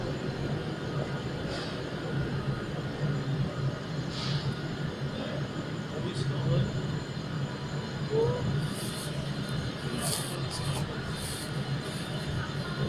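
A Virgin Pendolino train stands at a station platform bound for Glasgow, its steady low electric hum and whine filling the air, with passengers bustling nearby and faint high squeals and clunks toward the end.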